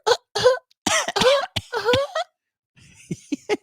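Several short, harsh coughs in quick bursts, followed by a few quieter throaty hacks after a brief pause.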